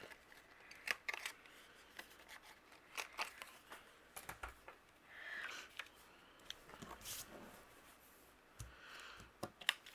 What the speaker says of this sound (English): Using my paper trimmer, I trim this down 1/4 inch.